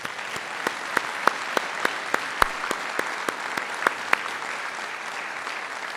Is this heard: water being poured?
no